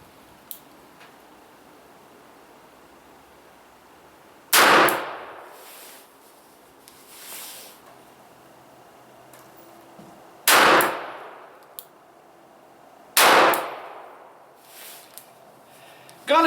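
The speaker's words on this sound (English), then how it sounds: "We're going to put 5 rounds down range with this." Three loud, sharp gunshots from a Smith & Wesson .38 Special snubnose revolver, spaced several seconds apart at an outdoor range, each followed by a brief echoing decay.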